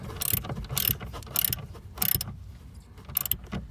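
Ratchet tightening a 12V battery terminal bolt on a Toyota Prius, four or five short bursts of rapid clicking separated by brief pauses, close and clear with no voices.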